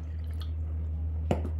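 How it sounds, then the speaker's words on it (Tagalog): Corn water pours into a tall glass of boba black pearls, giving a short faint trickle and drip with one brief sharper splash. "At ibuhos na natin yung tubig,"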